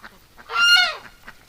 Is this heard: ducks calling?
yes